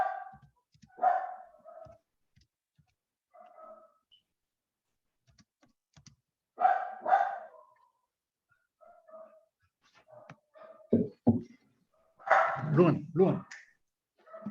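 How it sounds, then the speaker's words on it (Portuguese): Small female dog at home giving scattered barks and whimpers over about fifteen seconds, some sharp and close, some faint, with keyboard tapping and people talking in between. "Esse barulho de cachorro é da sua casa?"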